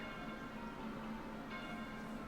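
Church-style bells from a song on an album, a steady, sustained ringing tone sitting within a dense musical mix throughout.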